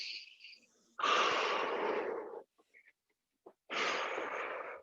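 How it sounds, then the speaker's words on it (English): Two long, forceful exhales with a breathy, wheezy rush of air during a workout, separated by quieter short breaths and a pause. "Take some big breaths right now. Big exhales."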